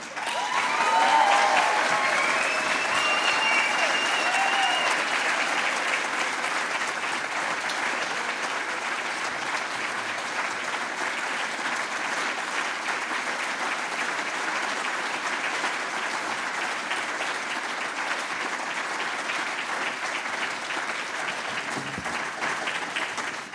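A concert audience gives a soprano a long, sustained round of applause. The dense clapping swells at the start and carries on evenly for over twenty seconds.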